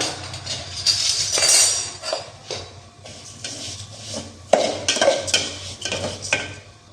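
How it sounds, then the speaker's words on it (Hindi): Vermicelli roasting lightly in a spoon of desi ghee in a pan, with repeated scraping, rubbing and light metallic clinks as it is stirred, close by and uneven in rhythm. "अब मैं इसमें डालूंगी सेवइयाँ और इनको भून लेंगे हल्का हल्का"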